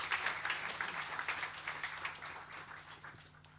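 Audience applause at a Finnish evangelical tour event in Helsinki, a steady wash of clapping from a crowd at moderate volume, thinning slightly toward the end, with a faint low hum underneath.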